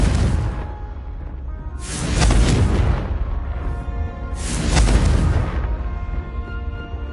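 Explosions from the Confringo fire spell in the game Hogwarts Legacy: two heavy, booming blasts a few seconds apart, each rising with a whoosh and trailing off in a deep rumble.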